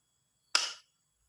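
A single sharp, close report from a homemade break-action gun fires once in otherwise silent surroundings, a short crack that decays within a quarter second.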